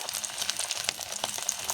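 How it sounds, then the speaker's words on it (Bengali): Hilsa fish roe frying in oil in a home kitchen, a soft continuous sizzle with scattered crackling pops, close and fairly quiet, no talk. "ইলিশ মাছের একটু ডিম ছিল, ওটা এখন ভেজে নেব"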